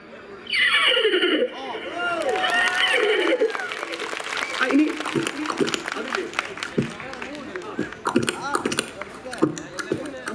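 A comedy performer at a Chakyar Koothu stage show imitates a horse with voiced whinnies and neighs, followed by audience applause and some talk, all close and loud.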